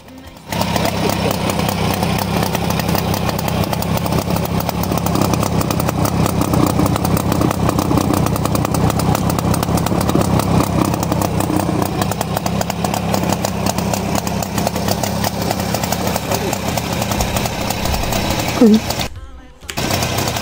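A 1950 Jawa 350 Pérák motorcycle engine idling close by, a loud, steady rapid two-stroke putter that runs evenly throughout before briefly dropping out near the end, with people talking nearby.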